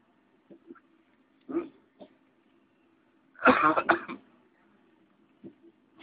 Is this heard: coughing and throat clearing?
yes